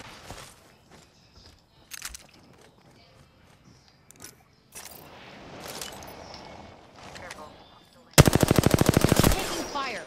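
Automatic gunfire in the battle royale shooter Apex Legends, a loud, fast rattling burst lasting about a second near the end, preceded by scattered softer shots, footsteps and game ambience.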